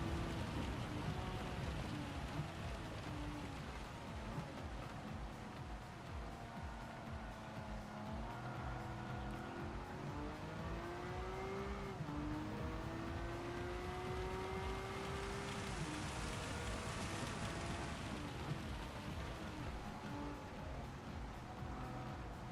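Rain hisses steadily across a Gran Turismo 7 race, a soft broadband wash beneath a car engine that climbs and drops through gears, the drone and rain continuing throughout without any talking.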